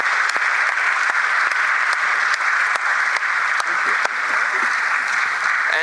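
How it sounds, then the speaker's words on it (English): An audience at a CEO meeting applauds its speakers with loud, continuous clapping, a dense crowd roar of hands punctuated by a few sharper individual claps standing out near the listener. "please give a big round of applause to our speakers"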